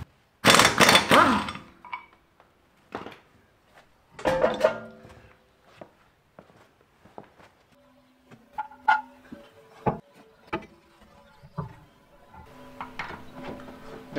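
A HAZET 9012EL-SPC pneumatic impact wrench tightening bolts gives two short, loud, rattling bursts near the start, followed by quieter metallic clinks and handling noises of sockets and bolts in a workshop.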